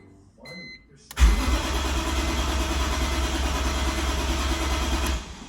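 A BMW E46 M3 engine cranks and catches with a loud burst, then settles into a steady close idle for several seconds before cutting off, with the car undergoing a fuel filter change.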